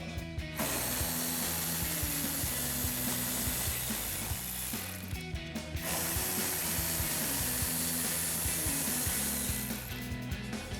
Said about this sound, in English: we're going to use our 7mm socket to remove those